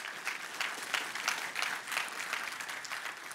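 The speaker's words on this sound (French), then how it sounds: "on peut applaudir le Seigneur, roi des rois" A congregation applauding during a church service, a continuous crowd of hands clapping in loose pulses, fairly distant and soft, with no talk over it.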